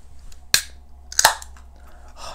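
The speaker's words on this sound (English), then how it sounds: "Let's crack the can." A can of Wild Beer Co. Pogo craft beer is cracked open up close, a sharp pop of the tab followed by a second crisp crack and a soft fizzing hiss of escaping gas.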